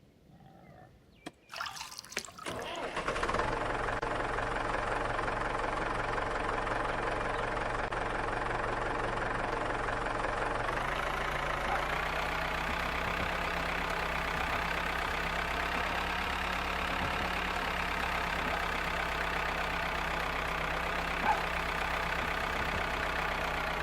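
A tractor engine in the farming video game Farmer's Life starts up with a few rough bursts, then settles into a steady low idle that rumbles on alone, rising slightly in pitch partway through.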